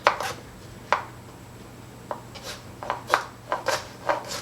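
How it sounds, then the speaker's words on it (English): A knife chopping onions and other vegetables on a cutting board, with about a dozen sharp, close taps in uneven bursts, sparse at first and quicker toward the end, no talk. "I'm going to pick out about half of my veggies, and I'm just going to give those a nice chop"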